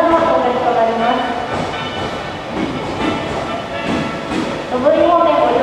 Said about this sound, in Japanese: まもなく2番線に到着いたします。